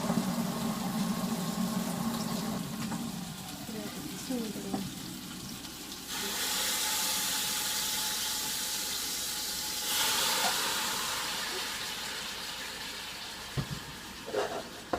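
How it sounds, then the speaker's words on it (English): Hot water is poured into a cooking pot in a home kitchen, giving a broad hiss and rush that swells twice in long stretches over background clatter. It is fairly loud and close, with no talking. "And now I'm going to put the equivalent of 2 cups of water into this."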